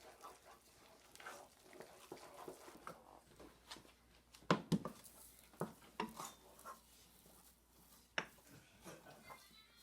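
Flour dough is stirred in a pot, with faint uneven scraping and knocking of a utensil against the pot and a few sharper clacks, quiet and close.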